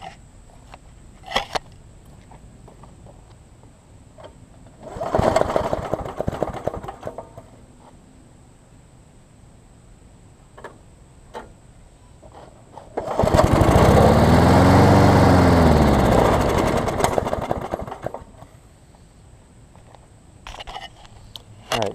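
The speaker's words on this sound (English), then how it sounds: "so it will crank up on starter fluid" A lawn mower engine cranks on starter fluid, with a brief sputtering burst, then a louder few-second run that dies away, between quieter clicks and handling noises.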